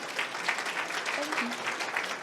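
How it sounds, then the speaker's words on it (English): An audience claps for three panelists after a conference session on NHS technology, steady broad applause with a voice speaking briefly over it. "Could everyone give our three panelists a round of applause?"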